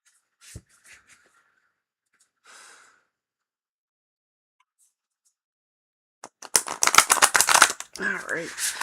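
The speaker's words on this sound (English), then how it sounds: "Good shuffle." Stiff tarot cards being shuffled up close, a dense burst of rapid riffling and flapping clicks after a few faint rustles and a short breath, with some voice-like sound near the end.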